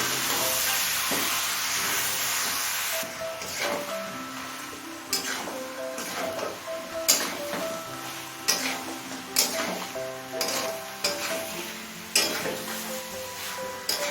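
Katla fish head, fried potatoes and capsicum sautéing together in a pan: a constant hiss of frying, then repeated spoon scrapes and knocks against the pan at a loose, uneven pace, fairly close.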